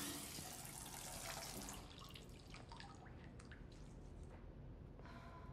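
Water runs into a bath in Detroit: Become Human with a steady splashing hiss, then eases into quieter drips and trickles. It is faint and there is no talk.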